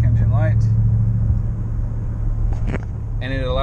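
A truck cruising at about 50 miles an hour, a steady low engine and road rumble heard from inside the cab, with someone talking over it.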